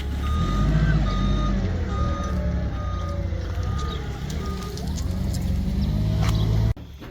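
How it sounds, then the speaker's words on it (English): Trucks arrive at a Lowe's hardware store lot, with a steady reversing beep repeating over low diesel engine rumble and outdoor background noise, then the rumble cuts off abruptly near the end. "We got trucks coming in, all kinds of stuff going on here."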